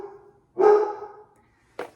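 A puppy indoors gives one loud, close bark, followed by a short, sharp yip a moment later.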